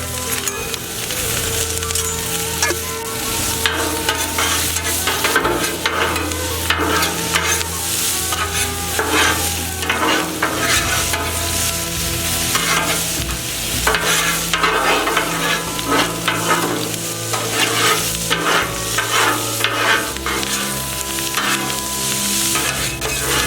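Vegetables and bologna frying in two tablespoons of oil for yakisoba, a loud continuous sizzle with constant stirring and scraping plus occasional clinks of utensil on pan, no speech.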